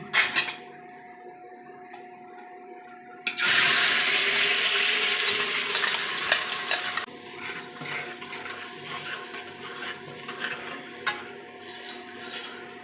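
Onion, garlic and ginger gravy goes into hot oil in a pan with a sudden loud sizzle that hisses strongly for a few seconds, then settles to a lower crackling fry with utensil clinks, close up and without talking.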